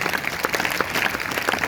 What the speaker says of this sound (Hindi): अगर लेना चाहते तो जोरदार तालियां बजाएंगे।